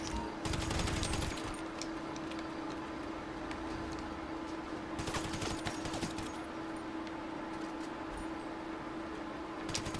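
Rapid automatic gunfire and bursts of shots in a heist video game, dense crackling volleys running throughout at steady loudness, with a constant tonal hum beneath.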